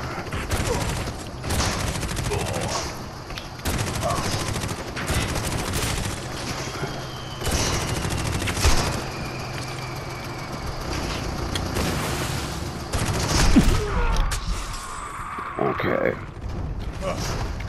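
Game gunfire from CrossFire, a campaign mission's final section: repeated bursts and shots scattered through a dense, busy battle mix, with voices talking over it.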